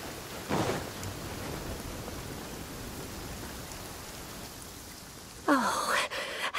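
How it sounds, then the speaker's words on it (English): Steady rain falls throughout a rainy stretch of Genshin Impact, a constant hiss with a brief rumble of thunder near the start and another louder burst near the end; no one speaks. "The rain won't slow me down."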